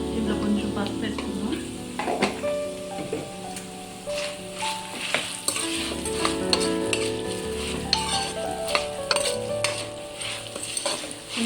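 Bitter gourd pieces sizzle steadily in a pan while being stirred, with repeated scraping and clinks of a utensil against the metal.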